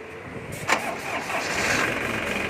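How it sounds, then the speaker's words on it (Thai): A Kubota tractor's warm diesel engine cranks with a sharp burst and catches, settling into a steady, close, loud running drone with no voices. "สตาร์ทติดง่ายนะครับ เครื่องร้อนสตาร์ทติดง่าย"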